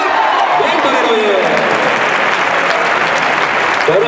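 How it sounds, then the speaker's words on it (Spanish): Loud, sustained ovation from a bullring crowd at a bullfight in Alcalá, dense applause and cheering filling the whole stretch without letup. "Fuerte ovación este tío, hombre."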